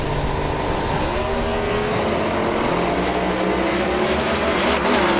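Pro Stock drag racing trucks in an NHRA competition eliminator event at Noble, Oklahoma, roaring down the strip; loud, continuous engine howl with shifting pitch as the vehicles tear past, no talk over it.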